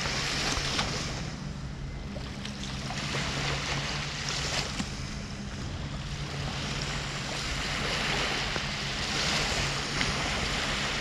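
Waves roll and splash on the Volga river, a continuous watery wash with a low steady hum and occasional louder surges, heard without voices.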